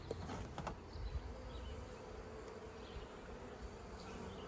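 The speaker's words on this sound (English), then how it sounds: "Now that's a happy little swarm" A freshly caught honey bee swarm hums continuously around its hive in a bee yard. The buzzing is dense and steady, with a few louder passes close by and no talk.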